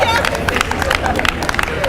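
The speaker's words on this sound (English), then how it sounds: "we give them another round of applause" A crowd at a college day-of-action event applauds past and present faculty and employees. Dense, loud clapping fills the moment with a murmur of voices underneath.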